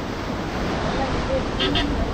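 Strong wind buffets the microphone at the seashore at Dhanushkodi, a steady loud roar mixed with surf noise, continuous throughout with no talking over it.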